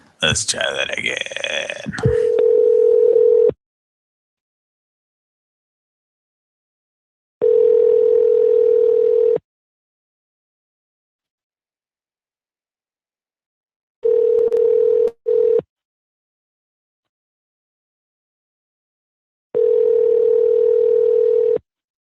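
Telephone dial tone heard while redialing a call: a brief burst of voice and noise, then a steady tone that cuts in and out in four separate stretches with silence between them.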